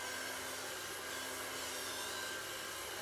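An old Calor hot-air brush drying hair gives a steady, close, faint whooshing blow with a constant motor whine, unbroken and without talking.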